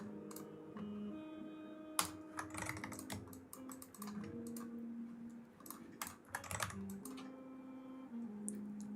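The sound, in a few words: typing on a new computer keyboard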